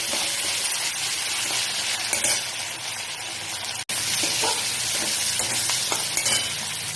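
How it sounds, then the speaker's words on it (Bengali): Sliced onions and whole cashews fry lightly in hot oil, a steady dense sizzle close by with faint stirring clicks, continuing unbroken apart from one brief dropout. "এবার এই তেলের মধ্যে এগুলো সব দিয়ে দিচ্ছি, একটু হালকা করে ভেজে নিচ্ছি।"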